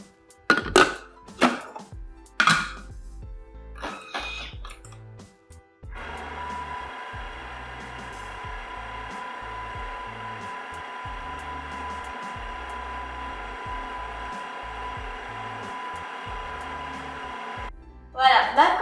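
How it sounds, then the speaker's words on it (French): A food processor or blender runs steadily for about twelve seconds, whirring hazelnut paste with icing sugar, preceded by a few clatters and knocks and followed by a brief clunk as it stops. "Donc là, je vais remettre à mixer."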